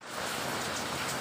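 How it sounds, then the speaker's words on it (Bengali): Rain falls steadily outdoors, a dense, even hiss of drops on surfaces that holds at a constant level throughout, with no voices. "বাইরে হচ্ছে বৃষ্টি"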